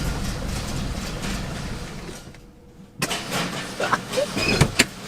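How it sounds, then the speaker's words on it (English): A worn-out Oldsmobile 442 engine runs close by in a rough, steady idle, cuts out briefly, then revs back up with uneven bursts and pulses under a few faint voices. "it sounds cool at idle unless you put it in gear"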